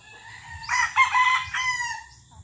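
A rooster crows close by at feeding time in a backyard, one loud drawn-out call in a few rising and falling segments over a low rumble of background noise.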